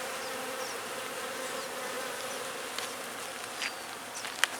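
Swarm of tiny bees hums steadily outdoors, a continuous buzzing drone with a few brief louder passes and clicks near the end, no one speaking.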